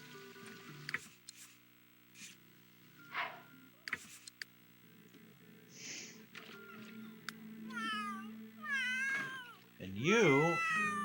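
A pet cat named Winkles meows several times, the calls growing longer and louder toward the end, with soft household rustles and a few clicks between them.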